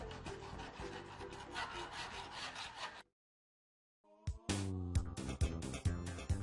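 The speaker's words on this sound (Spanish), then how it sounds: "Para eliminar rebabas tras el serrado, procuraremos que la lima trabaje a 45 grados con respecto de la pieza." A hand file scrapes burrs off a sawn workpiece at about 45 degrees. Several seconds of close, steady rasping strokes give way to a brief silence, then sharper knocks and scrapes return.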